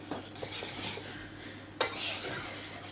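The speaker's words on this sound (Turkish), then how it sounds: "Şimdi karıştırarak içerisinde erimesini sağlıyorum." Dark chocolate melting into a sauce in a pot as a spoon stirs it, giving soft intermittent scraping, then a sharper clink against the pot before the stirring continues close by.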